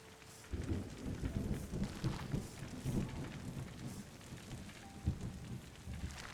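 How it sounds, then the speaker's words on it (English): Steady rain patters in the Terra Nil video game, with soft rumbling thunder rolling underneath at a moderate, even level throughout. "the rain is going to make more green land"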